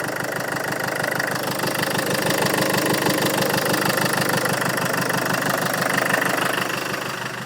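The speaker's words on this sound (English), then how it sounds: "Engine running." A Land Rover Freelander 2 engine idles close by in a workshop after a turbo intake duct upgrade, giving a steady, even knocking pulse that runs unchanged and loud throughout.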